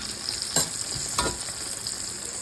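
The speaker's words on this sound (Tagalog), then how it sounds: "Pritong tilapia, yung aming dinner." Tilapia fries in hot oil with a steady close sizzle broken by a couple of sharper pops and spatters.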